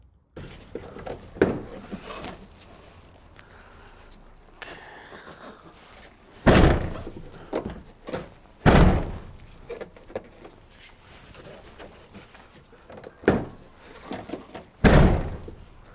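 Rear door of a Toyota FJ Cruiser fitted with a door stopper swung shut several times, each close a loud, sharp slam with a solid thunk, separated by quieter handling and rustling between closes.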